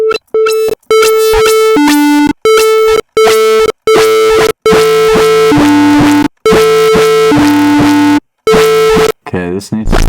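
Distorted synth lead built in Serum 2, loud buzzy sustained tones in choppy rhythmic bursts that switch between two pitches with short gaps, ending in a brief garbled sweep.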